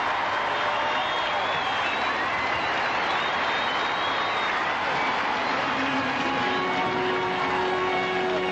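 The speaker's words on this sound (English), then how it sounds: "A speech received with rapturous applause, as was his every movement indeed" A huge outdoor crowd at Bellahouston Park, Glasgow, in 1982 claps for the Pope in sustained, dense applause, a steady wash of hands with no breaks.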